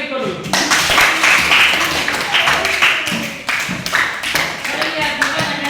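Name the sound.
applause for a pupil in class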